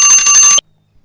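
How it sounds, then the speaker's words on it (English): A mobile phone ringtone trills loudly in a steady repeating pattern for about half a second, then cuts off abruptly into silence. "that was my phone having a little hissy there"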